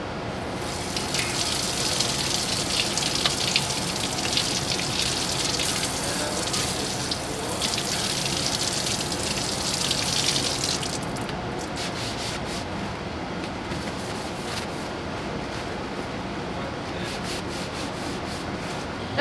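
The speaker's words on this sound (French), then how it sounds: "vous pouvez passer la plaque sous l'eau froide" Cold tap water runs steadily over a 3D printer build plate as it is rinsed, a continuous close hiss and splash with rubbing against the plate and no talking.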